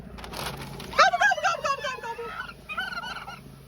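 Young farm turkeys gobble in a rapid, warbling burst, followed by a second, shorter gobble, fairly close over a low outdoor hum.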